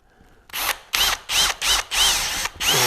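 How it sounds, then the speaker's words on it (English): A power drill with a 3/16 bit bores a hole in a window valance bracket on a GMC motorhome, running in five or six loud whirring bursts with short pauses between them. "what I do is I drill"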